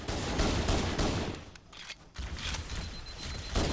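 Gunfire from Halo: Combat Evolved, with steady loud shots and fusillade-like bursts that drop out briefly mid-way before resuming, near and dense, with no talk.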